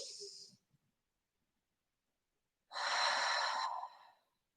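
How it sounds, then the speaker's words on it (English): A person draws a clear breath in, a single steady inhalation heard alone after a brief earlier breath sound, close and fairly loud. "I'm just going to take a breath in neutral."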